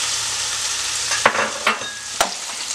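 Shrimp and crab meat frying in about a stick of butter, a steady close hiss of sizzling fat with a few soft scrapes and taps of stirring, no voices.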